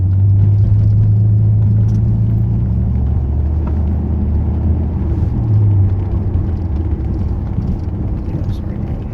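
A car rolls along a wind-swept road strewn with cleared branches, its steady low engine rumble and road noise filling the cabin, loud and constant throughout with no talk.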